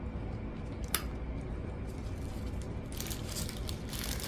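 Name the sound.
scissors cutting piping bag tips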